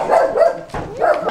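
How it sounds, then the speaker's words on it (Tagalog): A dog barks repeatedly up close at a gate, three quick sharp yips in a row, loud and alone with no talk. "The dog is barking."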